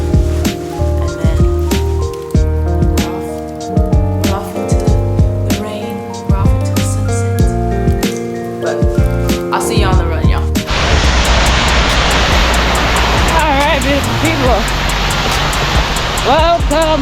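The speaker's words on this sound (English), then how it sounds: "Welcome to the rain." Rain coming down on a runner partway through an outdoor training run, a steady dense hiss that begins abruptly and continues without break over a loud, cluttered background.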